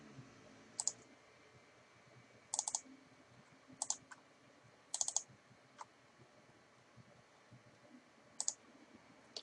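Mouse clicks in Civil 3D as markers are control-clicked to open hyperlinked images: about six sharp, isolated clicks, some in quick doubles, spaced irregularly over a quiet room hum with no talking.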